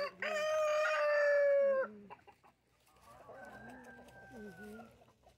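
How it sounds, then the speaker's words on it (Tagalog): Chickens in the Philippines clucking and crowing close by, one long loud crow followed by softer warbling clucks, with a few quiet voices in the background. "Ganda ng mga manok."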